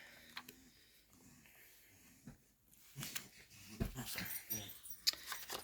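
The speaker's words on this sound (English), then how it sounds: "My apologies for the noisy dogs in the background." Dogs bark and whine in the background, with short yelps and whimpers scattered through a noisy room, growing busier toward the end.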